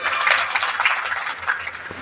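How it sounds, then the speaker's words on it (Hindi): An audience claps at a political rally in Badamalhara, a dense, sustained applause that stays fairly loud and even throughout. "इनके लिए जरूर तालियां बजाइए"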